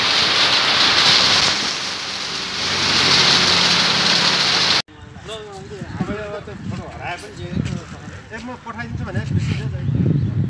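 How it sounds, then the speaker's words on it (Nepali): Hail and rain fall at Taudaha in a steady, loud broadband hiss for about five seconds, then the sound cuts to people talking over fainter background noise. "धेरै पछि असिना पानी परेको देख्न पाइयो।"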